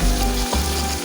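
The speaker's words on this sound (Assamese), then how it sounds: "এয়া লৰাই পিঁয়াজখিনি ভালদৰে ভাজি লৈছোঁ।" Onion and turmeric fry in hot mustard oil in a wok, giving a loud, close, continuous sizzle broken by brief stirring strokes.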